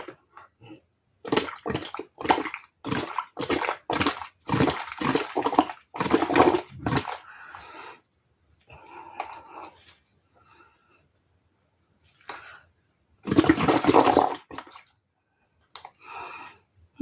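Air blown through a straw into a mix of washing-up liquid and water, producing a run of close, bubbling gurgles in short bursts separated by pauses.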